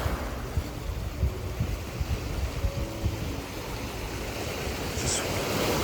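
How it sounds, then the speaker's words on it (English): Ocean waves wash steadily onto a shore, a loud continuous surf roar with wind buffeting the microphone and no talking. "Just listening to the waves crashing is so peaceful."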